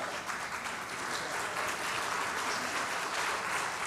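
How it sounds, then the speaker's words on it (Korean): A church congregation applauds during a Sunday service in a steady, even patter of clapping that carries on throughout, moderately distant. "박수 주세요."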